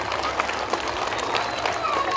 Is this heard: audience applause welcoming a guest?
yes